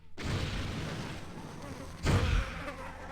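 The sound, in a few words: bees buzzing in Thief Gold video game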